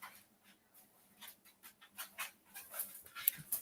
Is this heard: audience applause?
no